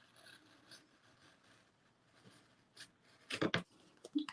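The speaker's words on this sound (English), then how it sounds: "I'm just using an X-Acto knife. I'm just going over the pen mark of the ear to cut out this little part." An X-Acto knife cuts out a small paper mouse-ear shape along a pen line, a run of faint scratchy scrapes and soft clicks that builds to a few louder, close cutting strokes near the end.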